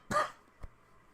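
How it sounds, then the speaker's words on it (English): A single short cough, close and fairly loud, followed by a fainter second throat sound about half a second later, with quiet room tone and no talk. "Excuse me for the cough."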